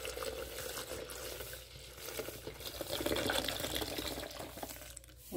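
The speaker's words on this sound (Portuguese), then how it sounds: "a gente vai colocar 1 litro de leite" A liter of milk is poured from a carton into a container, a soft, steady liquid stream heard fairly faint and close, with a gentle gurgle through the pour.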